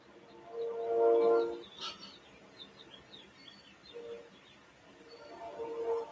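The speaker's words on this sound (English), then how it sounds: "I have a train outside." A train passes outside, heard through a wall as a distant horn that swells, fades and returns, with chirping birds scattered over a low rumble.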